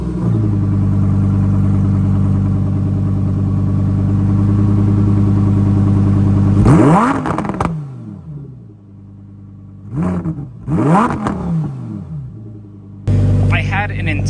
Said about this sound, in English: all I want to do is just listen to the engine